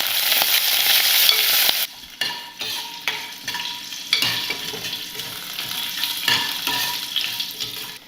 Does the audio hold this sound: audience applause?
no